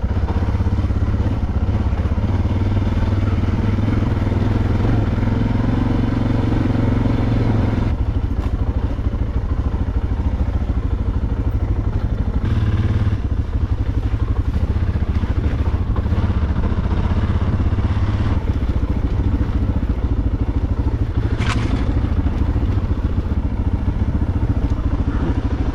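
A dirt bike engine running steadily while riding an off-road trail loop, loud and close throughout, with a continuous low rumble, shifting revs and occasional clattering bumps.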